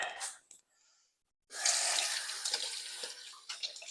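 Hands washed under a running kitchen tap while preparing mustard-coated baby back ribs, a brief splash, a pause, then a steady close rush of water with small splashes and rubbing.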